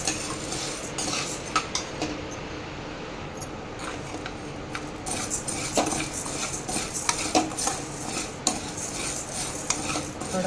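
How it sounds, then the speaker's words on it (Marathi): Sago pearls dry-roasting in a pan over a medium flame, stirred with a metal spoon that scrapes and clinks steadily against the pan, close and continuous with light crackling and no talk. "तर आता मला ही शाबू भाजून घ्यायचं आहे बघा"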